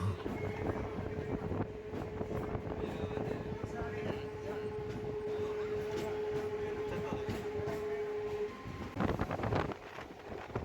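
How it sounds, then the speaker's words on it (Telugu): A MEMU passenger train travels near Pendiyala station between Secunderabad and Warangal, giving a steady rolling rumble with a long sustained tonal whine, wind buffeting, and a louder burst near the end, while a voice talks over it. "పెండియాల దగ్గరికి అయితే వచ్చేసింది ట్రైన్."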